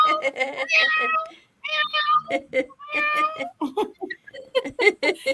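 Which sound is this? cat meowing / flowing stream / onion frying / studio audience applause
cat meowing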